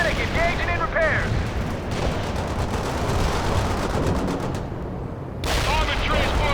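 Loud, continuous battlefield gunfire and booming missile launches in the World in Conflict video game, with radio-style voices cutting in over the bursts.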